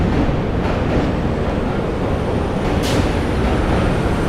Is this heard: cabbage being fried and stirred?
no